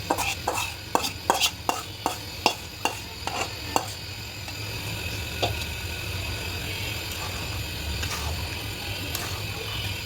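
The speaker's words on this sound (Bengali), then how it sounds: "নারকেল দিয়ে আবারও কষিয়ে নিব।" Duck meat and coconut stir-fried in a pot, a quick run of sharp rhythmic spatula scrapes against the metal, then a steady close sizzle with occasional clinks.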